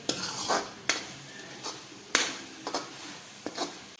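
A spoon scrapes and stirs through a thick fasting-sweet mixture in a pan, irregular strokes, close and fairly quiet, with a faint sizzle beneath.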